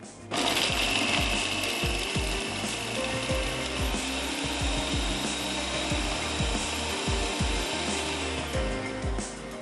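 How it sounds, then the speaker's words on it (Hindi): An electric grinder blends ginger, garlic, chillies and onion, making a loud, continuous whirring drone with rapid rhythmic knocking underneath that runs throughout and eases slightly near the end. "इसको हम अच्छा सा पीस लेते हैं ताकि अदरक, लहसुन, मिर्च, प्याज, तमाम चीज़ें पिस जाएं"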